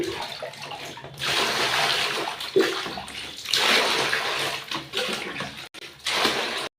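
Water runs from a tap in a small bathroom while items are put in to soak, a fairly loud rushing flow that starts after a second, surges and dips, and is broken by a few brief clunks.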